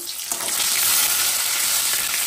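Bay leaf, cloves, cinnamon and tomato hit hot oil for a tempering, bursting into a loud, dense sizzle that holds steady throughout, close and without talking.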